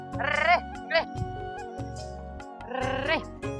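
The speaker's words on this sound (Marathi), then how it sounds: "आदित्य शेळीला इकडे घेऊन ये, शेवरी चारू." A goat bleats several times in a village setting, loud wavering cries that rise and fall, with a pair of calls near the start, a short one in the middle and a longer call near the end.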